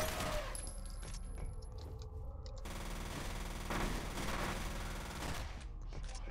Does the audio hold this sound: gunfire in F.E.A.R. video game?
yes